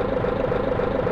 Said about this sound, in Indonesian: Dan ini untuk sound engine di saat berhenti seperti ini guys ya.